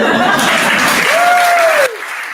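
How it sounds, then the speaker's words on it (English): Audience applause at a live comedy show, a steady wash of clapping that fills the moment before cutting off abruptly near the end, with a voice gliding briefly over it. "I'll hold for your applause."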